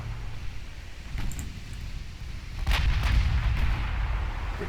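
Naval gunfire booms and rumbles in a warship battle game, distant and heavy, with a sharper crack of a shell striking partway through over a constant low roar.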